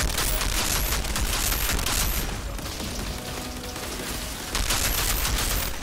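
Enemy gunfire in the video game Outriders, loud rapid bursts crackling continuously throughout, with a brief lull in the middle before the shooting picks up again.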